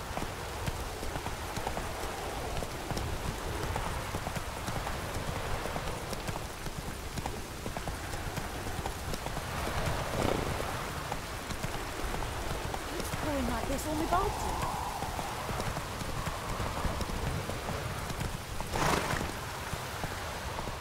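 A horse gallops in The Witcher 3 video game, its hooves clip-clopping in a steady, continuous rhythm over ambient game noise and faint rain-like texture.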